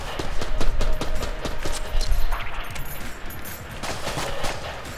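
Dense bursts of AK rifle fire in the video game Enter the Gungeon, rapid repeated shots clattering loudly through most of the stretch with brief lulls between volleys.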